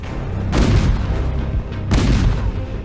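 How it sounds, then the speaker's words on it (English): Two heavy booms of cannon fire from a Napoleonic-era battle scene, each a deep rumbling blast set over a continuous low background roar. "French artillery opened fire, trying to smash the ice with their cannonballs."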